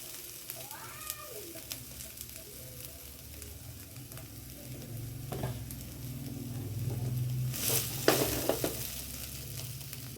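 Fried potatoes and garlic sauté in a pan, a soft steady sizzle under stirring scrapes and occasional clinks, growing a little louder toward the end.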